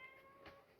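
A house cat meows once in a short, clear, close cry, with a faint sound starting at the very end.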